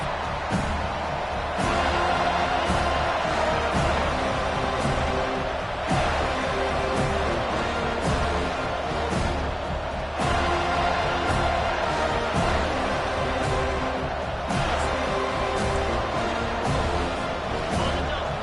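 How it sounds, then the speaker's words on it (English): Dense, steady roar of a large American football stadium crowd, loud and continuous, with occasional swells and sharp thuds rising above the din. "This crowd bringing the energy and noise early."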